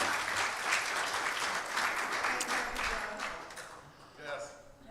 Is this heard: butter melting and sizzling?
no